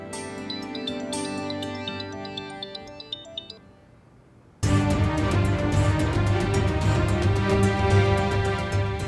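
A melodic phone ringtone chimes for an incoming call from a mother, then gives way abruptly to louder, fuller music with a steady pulse. No one speaks.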